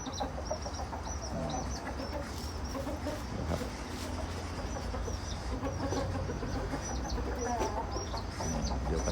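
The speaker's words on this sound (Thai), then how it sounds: "เน้นไก่เก่งครับ" Fighting roosters kept in a rural coop cluck and crow continuously, several birds overlapping near and far over a steady farmyard background.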